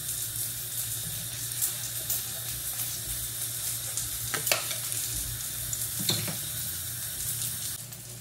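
Tomatoes sizzling in hot mustard oil, a steady close hiss of frying with a couple of sharp clinks of a utensil against the pan and a low hum underneath.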